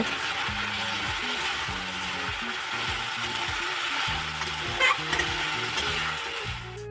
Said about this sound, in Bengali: এখানে জিরা সম্বার দিয়েছি আর দিয়েছি পেঁয়াজ পেঁয়াজটাকে একটু ভাজা ভাজা করে নিয়ে